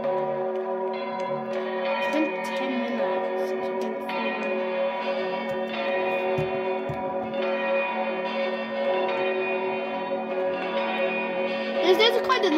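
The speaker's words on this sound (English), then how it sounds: "This is quite a loud bell." A church bell at All Saints, Maidstone rings out on Boxing Day, its loud, sustained tone hanging in a reverberant tower with repeated strokes blending into a long ringing hum.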